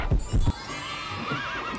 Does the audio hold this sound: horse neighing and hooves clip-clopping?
yes